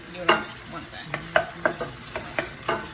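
Onions fry in a pan for chicken in green salsa, with a bright, steady sizzle close by. A spoon scrapes and knocks against the pan about six times in an uneven rhythm.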